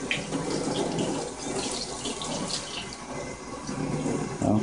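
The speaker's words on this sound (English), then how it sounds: "I'll let some of this tap water run out and we'll see how it goes." Tap water gushes steadily from a faucet into a sink, a loud continuous broadband rush with splashing that holds unbroken for several seconds before cutting off abruptly at the end.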